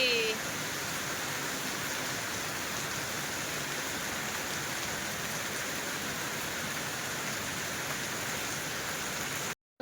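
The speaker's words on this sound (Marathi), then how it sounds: "आताची कुठं पावसाला सुरुवात झाली" Steady rain hisses down continuously, a dense even wash of drops from start to finish.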